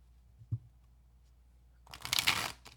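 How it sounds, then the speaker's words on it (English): Tarot cards get a quick riffle shuffle, a short burst of crisp flapping after a faint tap, fairly close and quiet with no voice over it. "I swear I can get a good shuffle."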